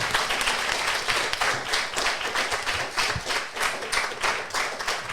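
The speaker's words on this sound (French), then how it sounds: "je pense qu'on peut t'applaudir très fort" A crowd at the 2024 Paris Marathon claps for a finisher, a dense, steady patter of applause over several seconds, somewhat distant and fairly soft.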